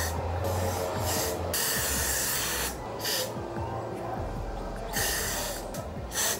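Repeated bursts of hissing hair spray, close and fairly loud, in short and longer blasts separated by brief pauses.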